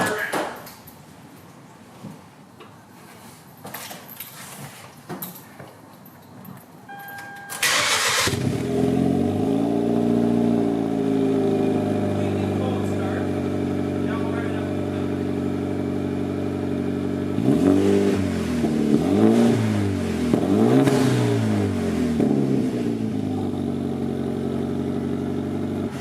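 A Hyundai Genesis Coupe cold-starts with a sudden loud exhaust burst, then settles into a steady, rumbling idle before two sharp revs climb toward 3,000 and then 4,000 RPM and fall back, recorded up close.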